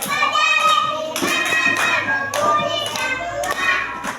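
Children in a classroom doing finger clapping on a teacher's cue, with several quick bursts of light snapping and tapping between stretches of a child's singing or chanting voice, close and lively.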